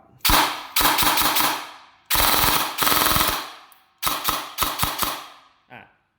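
An SQB electric gel blaster firing loud, close bursts of rapid shots in several strings separated by short pauses, each burst a fast mechanical rattle that stops abruptly.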